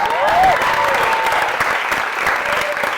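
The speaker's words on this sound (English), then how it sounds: "If I could get one more round of applause for Mr. Adrian McNair." Audience applause at a live stand-up comedy show in a San Francisco playhouse, a sustained burst of crowd clapping with a brief whistle near the start.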